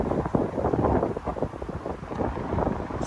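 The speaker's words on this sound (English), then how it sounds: "It's getting quite windy now." Strong gusts of wind buffet the microphone outdoors beside a parked V8 BMW M550i, a steady low rumbling roar that swells and dips without any voice.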